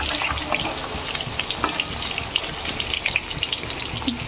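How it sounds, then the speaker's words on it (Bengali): Eggs frying in hot oil in a pan for egg curry, a steady close sizzle and crackle with scattered sharp spits throughout. "ডিমগুলো খুব সুন্দরভাবে ভাজা হয়ে গেছে"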